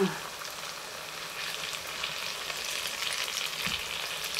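Shrimp and smoked fish balls fry in hot oil while being flipped, giving a steady close sizzle and crackle throughout with a brief scrape of turning partway through.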